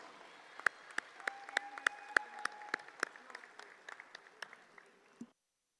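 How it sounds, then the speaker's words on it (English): A few scattered, distinct claps ring out for two award recipients at a Kentucky 4-H/FFA championship event, sparse and irregular rather than a full ovation, ending abruptly after about five seconds. "Please help me and give these 2 individuals a round of applause"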